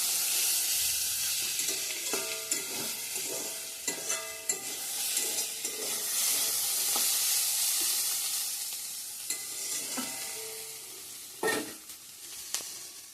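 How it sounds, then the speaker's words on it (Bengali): Radish greens stir-frying in a wok crackle and sizzle under a constant hiss, broken by repeated sharp scrapes and clatters of the spatula against the pan. No one speaks. "মূলা শাক ভাজাটা ভাজা ভাজা হয়ে গেছে"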